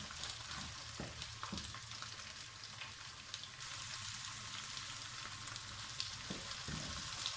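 Onion, ginger and garlic sizzle and crackle steadily in a hot pan, a soft continuous frying hiss with occasional pops and stirring sounds, no voices.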